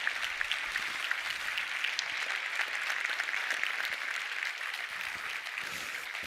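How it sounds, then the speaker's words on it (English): Audience at a start-up pitch competition final gives steady, moderately distant applause for the entrepreneurs, an even wash of clapping that continues without pause. "give a big round of applause again for these amazing"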